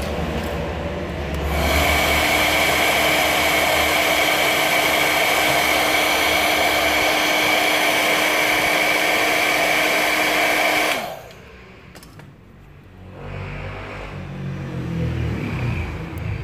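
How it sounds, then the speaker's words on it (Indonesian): A hair dryer blows steadily and loudly for about nine seconds while drying a phone touchscreen circuit after cleaning with thinner. It then cuts off, leaving quieter rustling and background noise. "kita coba keringkan pakai dryer."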